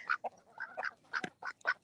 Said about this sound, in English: Because he's a spoiled rotten duck.